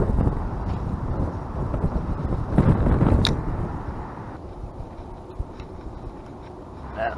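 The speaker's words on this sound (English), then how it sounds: "That was way too windy." Strong wind buffets the microphone with a low, continuous rumbling roar at an inlet on a fishing outing, steady and then easing slightly, with no voices.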